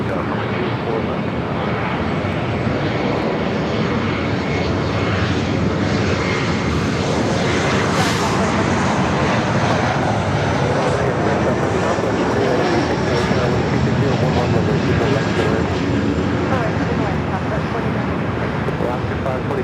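A Delta jet rolling for takeoff on runway 24 left at Los Angeles International Airport, a loud, steady broadband engine roar that holds for the whole stretch, with radio voices talking faintly underneath.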